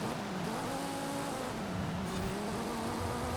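A race car engine in Forza Horizon 5 drones continuously through an overtake on the outside of a racing line, a sustained tonal roar with shifting pitch as the car accelerates, loud and close with no talking.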